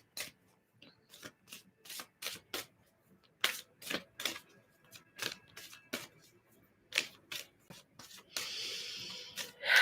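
Tarot cards shuffled and drawn in a series of crisp, rhythmic riffles and snaps close by, with short pauses between bursts and a longer rustling sweep near the end; no talking.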